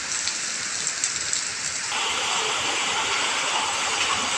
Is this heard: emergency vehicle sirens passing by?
no